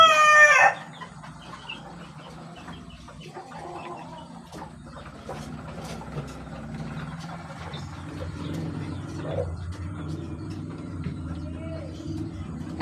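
Yellow-legged gamefowl chickens cluck steadily and crow now and then, at close range, after a loud burst at the very start, with a faint vehicle hum and a voice talking in the background.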